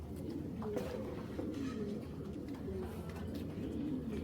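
Pigeons coo in low, repeated murmurs close by, with a large female pigeon among the birds being sold at a Bangladeshi pigeon market; faint voices and market bustle sit underneath throughout.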